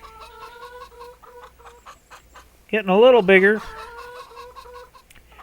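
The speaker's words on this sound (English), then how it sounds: "Chickens? How's chickens doing?" Chickens in Farming Simulator 25 cluck softly and steadily while a voice speaks briefly, then one hen lets out a louder, drawn-out squawk before the quiet clucking resumes.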